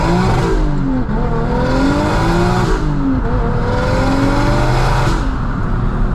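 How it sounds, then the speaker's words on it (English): A turbocharged 1JZ engine in a 500 HP Lexus IS300 with external wastegate revs hard and repeatedly, rising and falling in pitch with whooshing blow-off valve bursts between gear changes, loud and close. "We can hear the blow-off valve."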